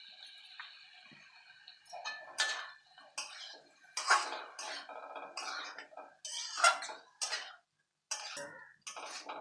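A spoon scrapes and clinks in a pan as mustard paste is stirred into pointed gourd, giving irregular close scraping strokes with short pauses between them.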